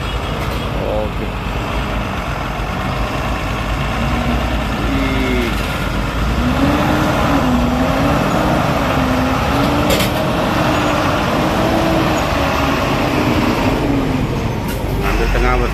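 A Hino truck drives past on a road with a low, continuous engine rumble and shifting pitch, with other road traffic and a person talking over it.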